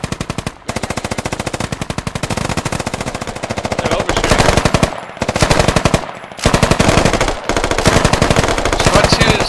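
Sustained machine gun suppression fire in the video game Squad: loud, rapid automatic bursts that run almost continuously for several seconds, broken by a few brief pauses between volleys.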